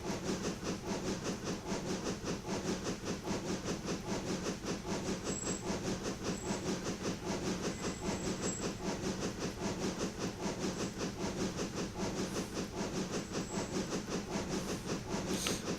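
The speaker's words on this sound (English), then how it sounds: "Train on the bridge." Black 5 steam locomotive hauling a train on a heritage railway line between Whitby and Pickering, heard as a steady, loud rolling rumble with hiss and rail clatter held throughout, no voices.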